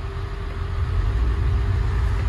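Twin Volvo Penta KAD300 diesel engines on a Birchwood 370 Commando boat, a steady low rumbling drone holding even throughout as the boat spins, close and fairly loud with no talk.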